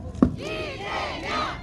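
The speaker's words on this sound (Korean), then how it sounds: "다시 한번 연호를 외쳐보겠습니다." A rally crowd outdoors at a riverside campaign event chants a politician's name in unison, voices rising in loud sustained tones after a sharp shout.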